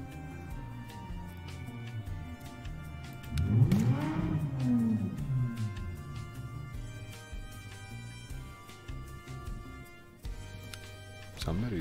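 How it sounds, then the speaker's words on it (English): A car engine in the Roblox game Lumber Tycoon 2 revs up loudly with a rising then falling whine, heard amid ongoing background noise. "Somebody revved their engine."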